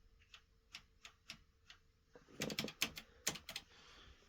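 Keys pressed on the keyboard of an Acorn A3010 computer: sparse separate clicks at first, then a faster, louder burst of clattering keystrokes, close up with no talking.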